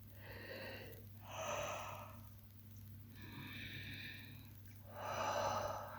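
Slow, soft breaths in and out, several long airy exhalations spaced a few seconds apart during a guided meditation, close but quiet over a low steady hum.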